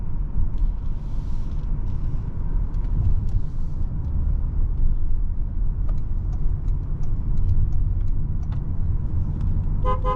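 A 2023 Toyota Alphard Executive Lounge heard from inside as it drives slowly: a steady low road and engine rumble fills the cabin with faint ticks and clicks over it, no talking.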